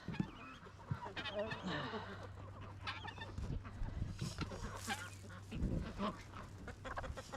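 Ducks quack and poultry cluck in a busy, overlapping chorus close by, with a steady low hum running underneath.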